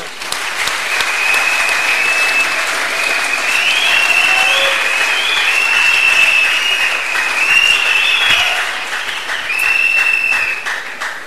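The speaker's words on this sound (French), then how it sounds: "je demande encore à l'Assemblée de vous applaudir." An assembly applauds students after a question-and-answer session with a politician, a long, full round of clapping from many hands with voices calling out and shrill whistles rising through it.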